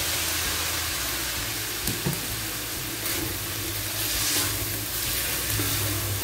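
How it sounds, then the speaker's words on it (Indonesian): Water poured into a pan of frying carrots and cabbage, a broad steady sizzling hiss with steam, close and continuous, with faint clinks of the pan and utensil and no talk. "saya akan taruh air sedikit ya, biar wortel sama kol lembut"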